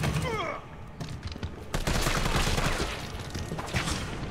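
Gunfire in the survival horror game Resident Evil 3, a loud burst of rapid shots that gives way to dense, sustained noise.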